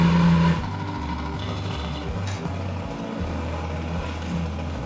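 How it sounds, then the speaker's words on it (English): A restored boat engine runs in a steady, low mechanical drone with a faint rhythmic pulse, loudest at the start and then settling into an even idle. "The engine runs for a cycle to flush out any remaining water in the system"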